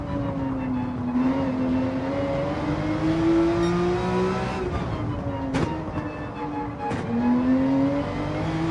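A race car engine in Gran Turismo 7, on the Nordschleife, drones and climbs steadily in pitch under load, with a few sharp gear-shift breaks before revving up again.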